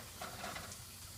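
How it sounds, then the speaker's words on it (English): Bacon sizzles in a frying pan, a soft steady crackle and hiss, fairly quiet and close. "you see I have my bacon frying"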